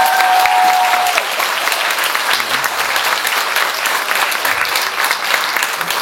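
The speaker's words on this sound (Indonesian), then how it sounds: "Sekali lagi tepuk tangan untuk Ada Mas." An audience at a presentation on Legong Peliatan Balinese dance gives a speaker a dense, steady round of applause, loud and close throughout, with a faint voice at the start.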